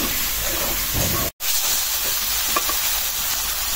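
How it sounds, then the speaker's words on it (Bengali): Ground coriander-cumin paste, chili powder and cumin powder fry in a pan, with a steady broadband sizzle and stirring scrapes that cut out briefly for a moment of silence, then resume close and even. "একদম ভাজা ভাজা করে নিচ্ছি।"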